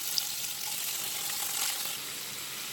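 Paneer sizzles and fries in a hot pan at home, a steady bright hiss that holds for a few seconds with a slight swell midway and no talking over it.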